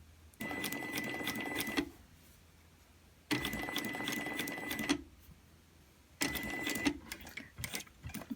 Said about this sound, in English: Stitch as close to the coil as possible, but not on top of the coil.